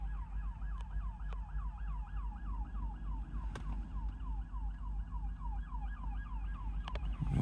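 An ambulance siren on a road near Dayton wails in a fast, repeating up-and-down pattern throughout, fairly distant, over a low steady road rumble with occasional clicks.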